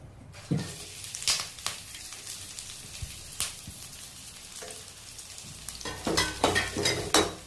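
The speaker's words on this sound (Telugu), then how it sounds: "కొంచెం అల్లం పేస్ట్ వేయాలి, కలపాలి ఒకసారి." Ginger paste fries in hot oil in a home kitchen pan while being stirred, giving a close, crackling sizzle broken by repeated scraping strokes and bursts of spattering.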